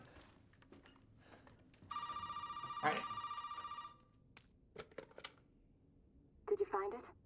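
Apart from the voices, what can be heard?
telephone ringing in the video game Resident Evil 7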